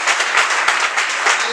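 A church congregation breaks into loud, sustained applause and cheering, hands clapping densely and evenly for the whole stretch with no pause.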